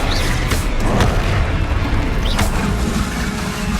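A Bombarda spell explosion in the Hogwarts Legacy video game on PS5, a loud deep boom within a dense, continuous battle rumble.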